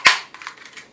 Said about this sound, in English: This is a toy revolver.